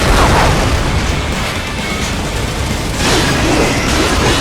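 A missile explodes in the action game Metal Gear Rising: Revengeance, a loud, dense roaring blast that fills the whole span with a second surge near the end, with no voices.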